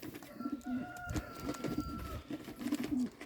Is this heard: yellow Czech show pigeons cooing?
yes